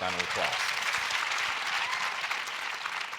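A small audience gives a round of applause for guests. A brief voice comes first, then loud, steady clapping carries through the rest.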